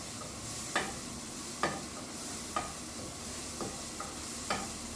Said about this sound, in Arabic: نقلب يا جماعه، مش هنقلب كتير.